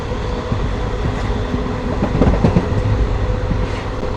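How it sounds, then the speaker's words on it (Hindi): A clean, fast Indian passenger train bound for Chandigarh, running between Moga and Jagraon, gives a loud, continuous rolling roar from inside the coach with rhythmic wheel clatter throughout. "बहुत ही अच्छी साफ़ सुथरी ट्रेन और अच्छी रफ्तार के साथ अपनी बिना किसी देरी के चलती रहती है।"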